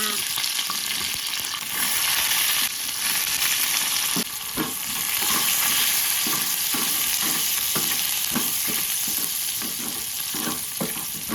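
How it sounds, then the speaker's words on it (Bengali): Garlic fries in lightly salted mustard oil, giving a loud, dense, continuous sizzle; from about four seconds, rhythmic scraping strokes of a spoon stirring the pan cut through it. "তেলে হালকা লবণ দিয়ে দিচ্ছি এখন দেবো রসুন"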